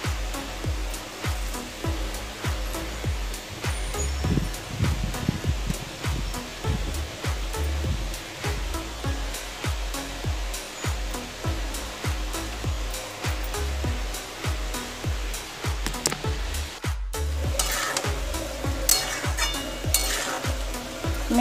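Liver curry sautés in a pan, a dense, continuous frying hiss broken by steady, rhythmic scraping strokes as it is stirred, loud and close, with no talking.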